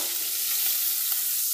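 Bacon sizzles in a pan with a steady, dense crackling hiss, close and fairly loud, and no other sounds.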